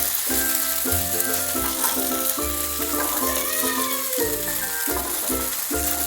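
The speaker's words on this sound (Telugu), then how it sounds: "బాగా ఎర్రగా ఫ్రై అయింది. అసలు ఇంకొంచెం బాగా ఫ్రై అవ్వాలి." Fish frying in hot oil in a pan, a loud, continuous crackling sizzle with rhythmic bursts of spattering throughout, close up and with no voices.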